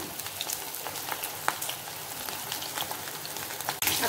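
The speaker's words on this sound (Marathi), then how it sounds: "आपण ह्यात तळून घेऊ छान।" Chicken frying in hot oil, a dense crackling spatter with scattered sharp pops, steady and close throughout, no voices, with a brief louder burst at the very end.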